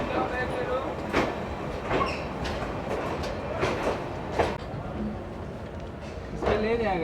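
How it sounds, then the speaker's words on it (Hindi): Amrit Bharat Express train pulling into Gorakhpur Junction railway station, a rumbling rail roll with intermittent clanks and squeals, heard near on the platform with people talking over it. "अपनी ट्रेन अमृत भारत पहुंच रही है भाई साहब गोरखपुर जंक्शन रेलवे स्टेशन"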